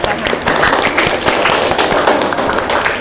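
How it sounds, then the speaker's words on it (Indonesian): A class audience gives brisk, dense applause, many hands clapping together loudly and close for a few seconds. "Oke, tepuk tangan."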